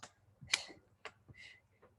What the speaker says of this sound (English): you can clap your hands together